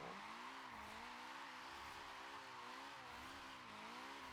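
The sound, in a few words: drift car engine as driver lifts off throttle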